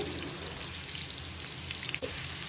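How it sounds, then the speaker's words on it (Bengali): Onion being stirred and fried in a pan with green chillies, a soft continuous sizzle with faint crackles and a brief scrape of stirring near the end, fairly quiet and without talk. "আচ্ছা পেঁয়াজটা একটু নাড়া দিয়ে নিই"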